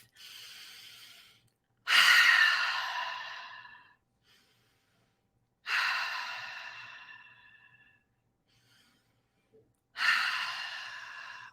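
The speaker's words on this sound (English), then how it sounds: "At that moment, I will take a really deep breath." Three slow, deep breaths, each a long airy inhale or sigh that swells and then fades, close and fairly quiet with silent gaps between them and no speech.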